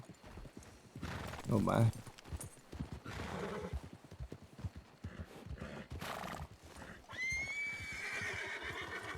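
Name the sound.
horse hooves and neighing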